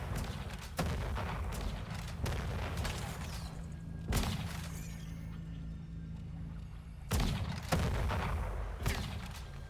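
Shotgun blasts in the Western action game Weird West, three loud booming reports spaced several seconds apart, each trailing into a rumbling decay with no talking.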